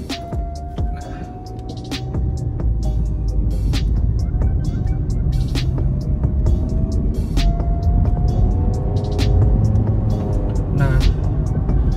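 A 2018 Toyota Yaris TRD Sportivo accelerates in sport mode. Its engine drones loudly and steadily throughout, with rising tonal strains as revs build.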